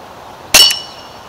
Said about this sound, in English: I only put a dent in the tin can, did nothing to the glass.